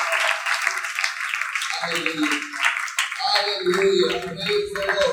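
A church congregation claps hard and continuously in praise after a sermon, the dense applause mixing with voices and a rising musical tone in the second half.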